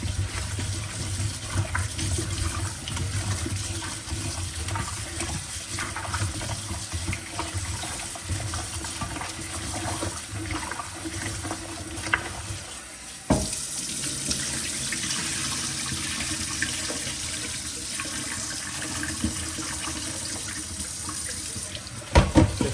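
Water runs steadily from a tap into a sink for a long stretch, splashing and churning as potatoes are washed, with a brief clunk midway.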